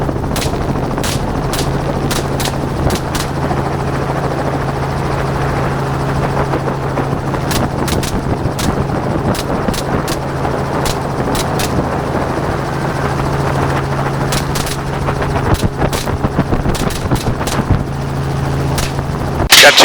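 Helicopter flying during an aerial hog hunt, a loud continuous rotor thump close overhead with sharp cracking gunshots scattered throughout, some in quick bursts.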